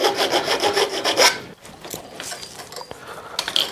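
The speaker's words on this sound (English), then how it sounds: "There's a big burr on the front of this. Can't get this on, so I'm just going to file it off." A hand file scrapes a burr off the front edge of a metal part on a three-wheeled vehicle, in quick rhythmic rasping strokes, then a few slower, quieter scrapes and light taps.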